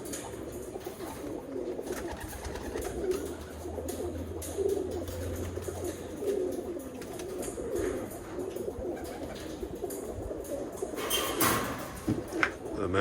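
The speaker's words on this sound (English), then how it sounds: "Look at that beautiful pair of pigeons" A pair of Birmingham Roller pigeons, a hen and a cock, coo in repeated soft, low, rolling calls close by, with light rustling in the background.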